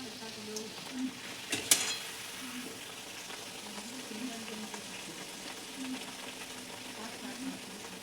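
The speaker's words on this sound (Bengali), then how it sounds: "তো এরকম ডুবো ডুবো তেলে ভেজে নিতে হবে" Naan puri deep frying in oil gives a steady soft sizzle and bubbling throughout, with a brief louder crackle early on and faint clinks of stirring.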